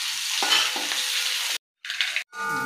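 Onions sautéing in a pan for millet rice upma give a close, continuous sizzle with a few stirring scrapes, briefly cutting out before resuming, with no talk.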